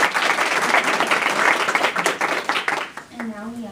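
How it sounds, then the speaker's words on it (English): Loud, dense audience applause at an honoring ceremony rolls on for a few seconds, then fades as a voice begins speaking near the end. "Let's give her a round of applause."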